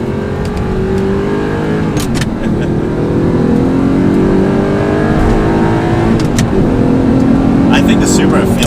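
A stock turbocharged Toyota Supra is driven hard through a tight turn, its engine droning and shifting pitch as it accelerates, loud and close from inside the car with wind and road noise.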